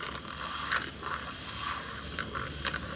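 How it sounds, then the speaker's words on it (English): A whisk beats a mixture in a bowl with quick, steady scraping and clinking strokes that repeat at a close, moderate level, with no one talking. "and then I whisk again"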